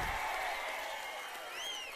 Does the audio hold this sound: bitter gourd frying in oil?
no